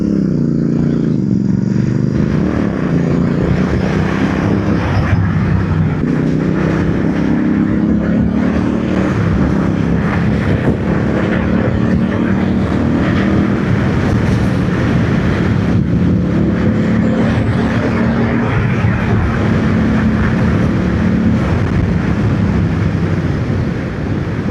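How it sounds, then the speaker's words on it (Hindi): A scooter or motorcycle fitted with a catalytic converter drones steadily while riding, its engine and exhaust running continuously and loud under heavy wind rush, with no talk. "जो हमारा कैटालिटिक कन्वर्टर लगा हुआ है उसकी आवाज़ ऐसी आ रही है अभी तो"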